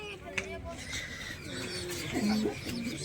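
Pigeons kept under a tin-sheet rooftop loft give soft, low cooing calls, a few rolling coos toward the end, faint and close, heard under someone talking.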